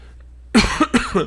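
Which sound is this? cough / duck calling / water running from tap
cough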